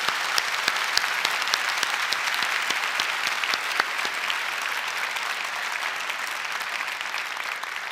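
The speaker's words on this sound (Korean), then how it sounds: "우리가 드릴 수 있는 최고의 영광의 박수를 다시 한번 주님께 올려드리겠습니다" A church congregation at a 30th-anniversary Sunday worship service gives a sustained, dense round of applause, many hands clapping evenly and loudly throughout with no voices rising above it.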